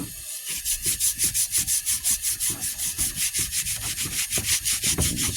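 A rusty axe head scrubbed by hand with plain Dawn dish soap, giving loud, close, evenly paced back-and-forth rubbing strokes that repeat steadily throughout.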